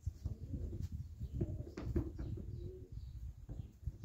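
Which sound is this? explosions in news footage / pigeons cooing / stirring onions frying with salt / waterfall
pigeons cooing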